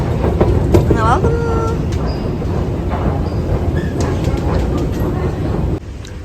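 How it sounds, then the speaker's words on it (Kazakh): A tram rolling through Istanbul's narrow streets gives a continuous close rumble, with brief squeals and faint voices. The rumble drops suddenly near the end. "Енді 3-ші трамвайға мініп алдық."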